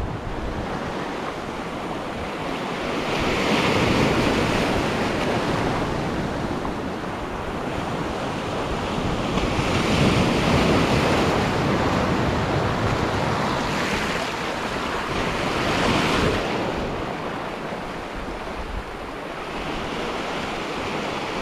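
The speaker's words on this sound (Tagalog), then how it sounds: "Laki naman ang alon na yun." Big ocean waves roll onto an island shore in repeated heavy surges, each crash swelling and fading, with steady wind buffeting the microphone and no voices.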